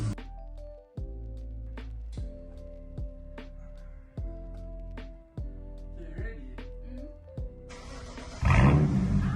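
BMW 335i with a straight-piped exhaust revs repeatedly, about six sharp blips rising and falling over a steady idle, loud and close, followed by a brief burst of rushing noise at the end.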